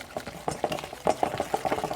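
Ancho honey citrus spice being stirred into hollandaise sauce in a pan, a close run of soft wet scraping and sloshing strokes repeating in an uneven rhythm, with no talk.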